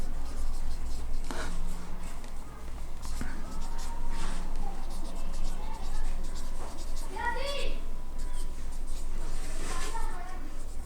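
Numbers are handwritten on paper during a fourth-grade maths lesson, with steady close scratching and scribbling strokes running under a continuous speaking voice.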